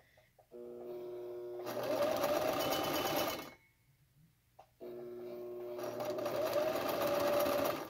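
A sewing machine stitches a cloth face mask in two steady, whirring bursts of several seconds each, separated by a short pause, close and clear with no talk.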